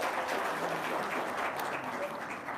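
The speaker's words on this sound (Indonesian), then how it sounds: "Tepuk tangan dong." Audience applause at a lively Ramadan-themed gathering: a steady, dense wash of many hands clapping together, continuous and fairly loud throughout, with no voices standing out.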